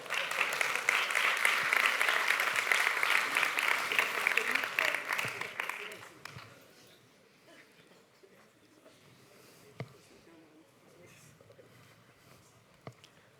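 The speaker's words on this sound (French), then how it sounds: "On va vous applaudir" Audience applause at a WWF 2026 afternoon session with a mentalist on stage, dense and steady for about six seconds, then fading to scattered claps and quiet room noise.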